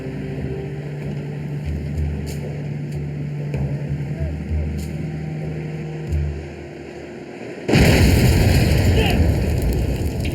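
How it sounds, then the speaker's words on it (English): An IED blast goes off near a military truck on a lane, heard as one sudden loud burst of broadband noise that cuts through steady engine and wind rumble and then stays roaring to the end. "The ID explosion blinds us and knocks our camera out of commission."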